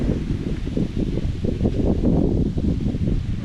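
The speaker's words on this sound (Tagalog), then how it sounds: "Lakas ng hangin." Strong, gusty wind strong enough to break a tree roars steadily with a dense rustle of leaves, loud and close throughout, with buffeting surges.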